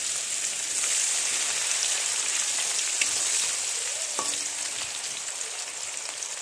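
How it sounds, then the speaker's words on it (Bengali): Onions frying in a pan: a steady, close sizzling hiss that stays even throughout, with a couple of faint clinks and no talking. "এখন আমি এটাতে পেঁয়াজ দিয়ে দিচ্ছি।"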